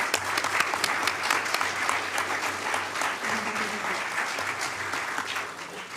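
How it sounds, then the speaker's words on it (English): Sustained applause from an audience at a city council meeting, many hands clapping steadily and fairly loudly for the full stretch, with a faint murmur of the crowd underneath. "That deserves a round of applause."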